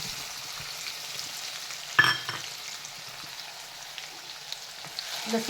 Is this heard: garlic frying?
yes